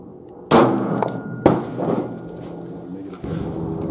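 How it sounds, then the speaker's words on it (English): An unsuppressed Smith & Wesson M&P 9mm pistol firing supersonic ammunition during suppressor testing: one sharp, loud crack, a second hard impulse about a second later, and ringing decay between and after them. "First shot, Smith & Wesson M&P, unsuppressed 9mm with"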